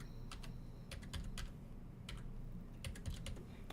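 Keys clacking on a computer keyboard in short quick bursts with pauses between, close and fairly quiet over a steady low background hum.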